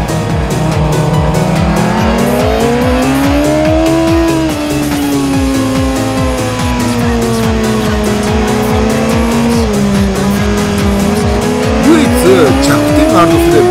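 A supercharged Kawasaki H2R motorcycle accelerating hard out of a corner at a Tsukuba race event, its loud engine note climbing steadily in pitch close by, with a commentator talking over it.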